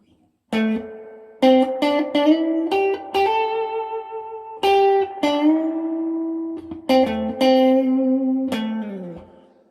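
A Gretsch electric guitar played through a vintage Marshall amp with a reverb pedal rings out in clean melodic notes and chords, each phrase trailing into a lingering wash of reverb, loud and close with no talking.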